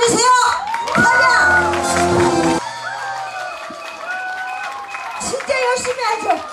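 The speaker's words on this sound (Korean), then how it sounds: "박수와 감사 한 번 주세요" Crowd at a Korean oyster festival's pumba folk performance (Cheonbukhang) breaks into applause and cheering, dense and loud at first, then thinning as children's voices and chatter rise over the scattered clapping.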